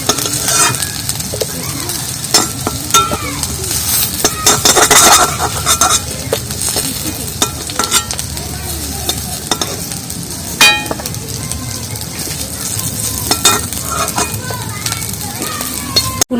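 Fried cauliflower florets are stirred and scooped from a sizzling hot pan, metal utensil scraping and clinking in irregular bursts over a steady close frying hiss, with occasional speech.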